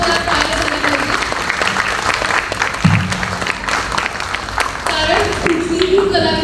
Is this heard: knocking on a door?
no